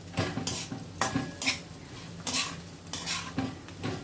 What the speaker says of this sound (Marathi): मी यातली थोडीशी भाजी काढून ठेवणार आहे